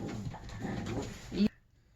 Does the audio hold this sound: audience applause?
no